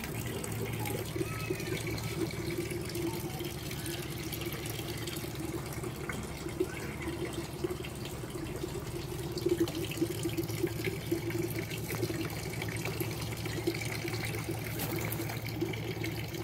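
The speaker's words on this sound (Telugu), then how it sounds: "వాటర్ పడుతున్నా, ట్యాప్లో పెట్టించా నీళ్ళు" Water runs from a tap into a vessel in a steady, even stream, fairly quiet and unbroken, with no one talking.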